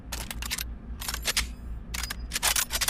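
A rifle charging handle in the video game Pavlov is worked in a string of crisp mechanical clicks and metallic slides, arriving in short clustered bursts with brief pauses between them.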